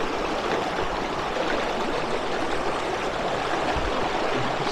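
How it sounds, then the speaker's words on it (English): A river rushes steadily near a waterfall, a dense, continuous broadband roar of flowing water that stays close and loud throughout with no voices. "Got a stunning river here."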